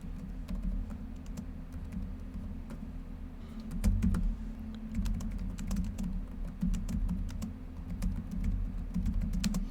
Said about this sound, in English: So now we'll do a little type test and see how much sound it picks up.